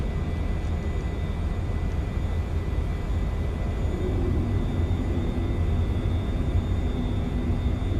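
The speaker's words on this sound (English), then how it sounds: "We have taken off, guys." An Embraer ERJ-195F jet climbing after takeoff in Microsoft Flight Simulator 2020 gives a steady, loud engine roar with a low rumble and faint high whine, unbroken and without talk.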